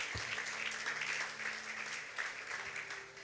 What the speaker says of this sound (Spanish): Dale un aplauso al Señor, aleluya.